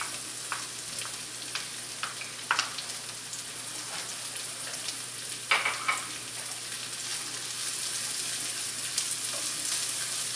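Sweet onions fry in a pan with a soft, even sizzle like light rain, dotted with a few quiet scrapes and clicks from stirring.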